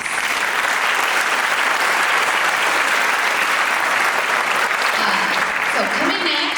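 A large audience at a Chinese New Year school performance applauds loudly and continuously, a dense wash of clapping that stays strong, with a few voices and cheers rising near the end.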